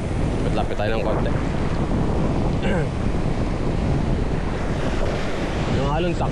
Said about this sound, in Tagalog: Yung alon, saktong-sakto lang yung laki,